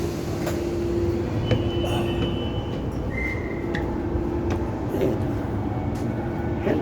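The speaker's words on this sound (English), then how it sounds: "This is what it's like catching a nice Chinese-made train." A Chinese-made Sydney commuter train runs along the track with a steady rumbling roar, a sustained tonal hum and brief higher squeals of wheels or brakes, heard from inside without speech.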